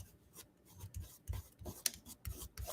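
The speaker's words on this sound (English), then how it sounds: "So I'm going to take it off with my eraser." Eraser rubbing back and forth over a glue smudge on a craft card, a soft, faint scrubbing in uneven bursts with brief scratchy strokes.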